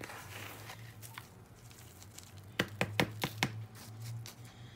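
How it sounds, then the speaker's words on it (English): Soil being tapped down in a plant pot while potting succulent cuttings, several close, soft thuds in quick succession over a low background hum. "Loosely, just tap on the surface just a little bit"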